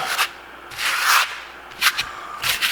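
Trowel spreading Venetian plaster for a concrete-look finish on a wall, several swishing, scraping strokes of varying length, close and fairly clear, with no voices.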